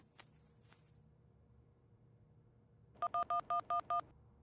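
Touch-tone keypad beeps as a mobile phone number is dialed indoors: six short, evenly spaced tones in quick succession, clear and close, following a brief faint clatter and no talk.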